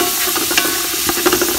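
Chopped onions fry in a pan for a Goan green masala chicken biryani, giving a steady close sizzle with a few light stirring scrapes throughout.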